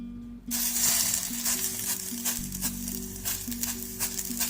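A shumai meatball patty sizzles steadily in a hot pan, a continuous close frying hiss with faint crackles and a low steady hum underneath, no voices.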